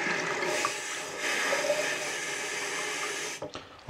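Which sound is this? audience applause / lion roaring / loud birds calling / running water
running water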